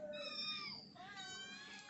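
A domestic cat meows twice in quick succession, close and fairly clear, each call rising then falling in a drawn-out tone, in a quiet home kitchen setting.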